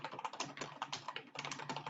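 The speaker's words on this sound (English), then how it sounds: "I just hear aggressive typing." Rapid, forceful typing on a computer keyboard gives dense, uneven bursts of clacking keys, faint and somewhat distant, with no voices.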